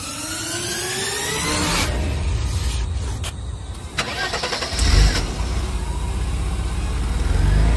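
A motorcycle engine cranks and catches near the microphone, its steady mid-pitched running building over about eight seconds, with a brief louder burst midway.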